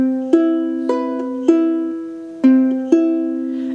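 An acoustic guitar is finger-picked slowly through a pattern from Kingdom Hearts 2, five or six plucked notes ringing one after another, each decaying into the next, clear and close.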